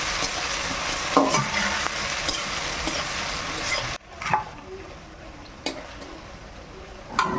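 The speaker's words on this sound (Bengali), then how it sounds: "পেঁয়াজ টমেটোটা ভালোভাবে ভাজা হয়ে গেছে" Onion and tomato fry together in a pan with a steady close sizzle and occasional spoon scrapes; the sizzle drops suddenly to a quieter level partway through while stirring continues.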